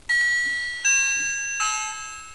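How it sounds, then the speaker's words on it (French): A small electronic doorbell at an equestrian pony club chimes three bright tones in sequence, each ringing out and fading, clear and close in a quiet room. "Puis une petite sonnette, écoutez."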